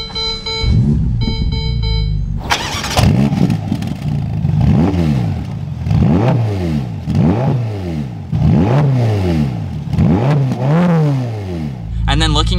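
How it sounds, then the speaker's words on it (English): A 2021 Ferrari Roma engine fires up close by with a loud roar, then revs repeatedly in rising and falling surges, a rhythmic series of throttle blips. "we're gonna push on the engine start stop area there and fire this up."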